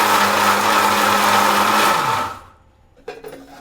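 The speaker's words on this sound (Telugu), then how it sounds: "ఇప్పుడు మిక్సీ పట్టేస్తాను నేను, అంతే" A mixie grinder blends fried sambar ingredients, roaring loud and steady for about two seconds before winding down, followed by a brief clatter as it stops.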